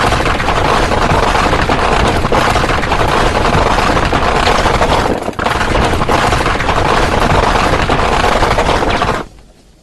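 A military gatling machine gun, an M134D or GAU-19/B .50 cal, roars in dense sustained bursts, loud and continuous with a brief dip midway, before cutting off near the end.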